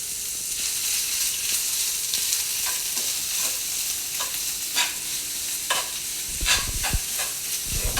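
Garlic sizzles and fries in a pan, a steady close hiss broken by scattered stirring clicks and scrapes, with a few louder thumps of the pan near the end; no one speaks.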